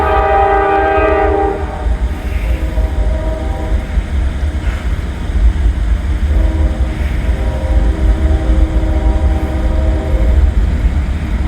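A northbound train passes close by, its horn blaring in long sustained blasts at the start and again later, over a continuous loud rumble of wheels and rail cars.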